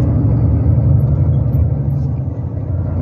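A sugarcane transport truck on highway PE 045 rumbles past with a steady, heavy low engine drone, loud and close for several seconds.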